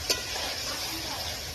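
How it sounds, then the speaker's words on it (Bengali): Chicken meat sautéed in a pot over a wood fire, giving a steady low sizzle and frying hiss with a brief stirring scrape near the start, close by and continuous. "এবার মাংসটাকে ভালো করে আমি এবার একটু কষিয়ে নেব।"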